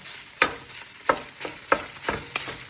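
Rice and vegetables fry in a high-walled pot, with a spatula striking and scraping the pot in a steady rhythm of about five firm knocks over a continuous sizzle.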